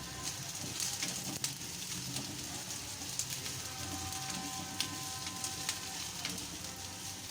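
Julienned carrots and bell pepper fry in oil for a restaurant-style chicken manchurian and fried rice, a steady moderate sizzle with scattered crackles and spatula taps close by.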